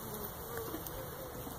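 Dense buzzing of many honeybees at a Warre hive during inspection, close and continuous, a steady hum with individual wingbeats flickering through.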